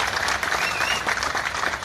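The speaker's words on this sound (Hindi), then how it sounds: "आप मुख्यमंत्री अरविंद केजरीवाल को इस बात की बधाई अपनी तालियों में देंगे" A large crowd applauds during a speech at an outdoor political rally, the clapping dense and continuous, with a faint whistle-like tone rising above it.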